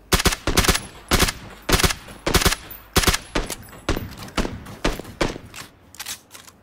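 Gunfire in the PUBG video game comes as repeated sharp bursts and single shots in an uneven rhythm, loud and close, about a dozen clusters over several seconds.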